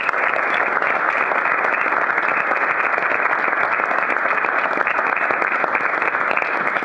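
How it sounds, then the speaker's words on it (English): Sustained audience applause at a National Honor Society induction ceremony, a thick, steady wall of clapping from many hands, loud and even for nearly seven seconds without speech. "You've done a fantastic job, and you deserve another round of applause."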